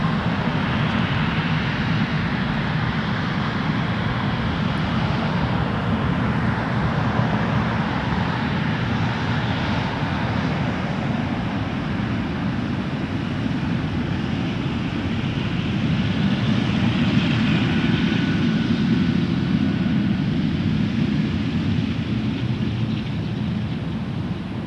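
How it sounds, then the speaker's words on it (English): Boeing 777 airliner on final approach at Toronto Pearson Airport, a continuous loud jet roar that holds steady and swells slightly near the end, no speech. "Then we get a 777 on final right now."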